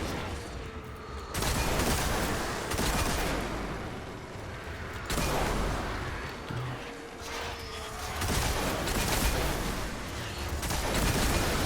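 Weapon fire from a Hunter in a Destiny 2 Nightfall strike against an ogre: sustained, dense bursts of gunfire and booming impacts that swell and drop in loud waves with short lulls between them.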